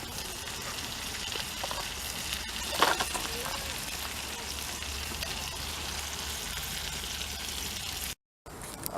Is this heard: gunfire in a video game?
no